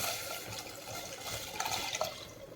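Tamarind extract poured into a pan of tempering for South Indian rasam, a steady close liquid pour and splash with a few sharper splashes near the end.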